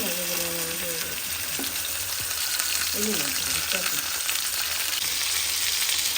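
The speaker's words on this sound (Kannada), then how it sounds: "ಫುಲ್ ಚಟಪಟ ಅಂತ ಇದೆ, ಬಿಕಾಸ್ ಫ್ರೋಝನ್ ಅಲ್ವಾ, ಅದಕ್ಕೆ." A single frozen chicken breast piece crackles and spits loudly in hot oil, a dense continuous frying hiss with sharp pops, close and steady with brief faint voice-like tones early on.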